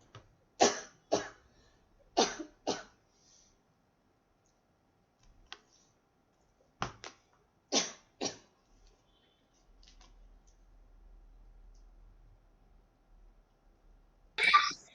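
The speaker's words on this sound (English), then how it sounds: "I muted myself because I started coughing" A person coughs in several sharp bursts, mostly in pairs and clusters spread across the clip, with quiet gaps between them and a faint low hum near the end.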